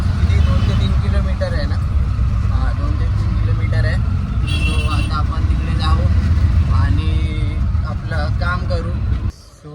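Riding inside an auto-rickshaw in traffic on the way to a mall, a loud continuous engine rumble and road noise with passing vehicle sounds, while people talk over it until the noise drops at the end.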